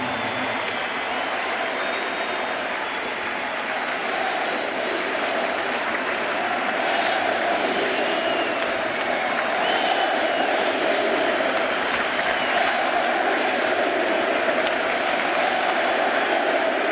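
A sellout crowd of nearly 49,000 at Yankee Stadium applauds and cheers for Derek Jeter's final home game in 2014, a broad, continuous roar of clapping that swells slightly toward the end.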